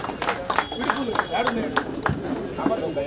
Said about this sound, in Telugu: ఆయనకి ఈరోజు లేచి కొంచెం క్లాప్స్ కొడితే ఆయన సీనియర్ మోస్ట్ టెక్నీషియన్ గారికి